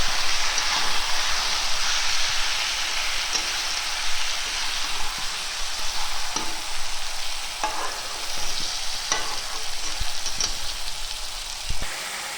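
Taro stem curry sizzles and fries steadily in a pan, with the close, continuous crackle of hot oil broken by occasional scrapes and knocks as it is stirred.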